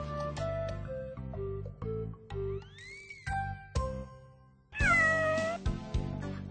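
A black cat meows twice in drawn-out, rising and falling cries, the second louder, set against light tinkling, chime-like music with no talking.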